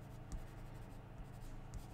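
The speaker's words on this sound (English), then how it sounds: "Because we can go over it with pencil and add things to it." White colored pencil sketching on Neenah paper, a steady soft scratching and rubbing with faint rhythmic strokes, close and quiet, with no voices.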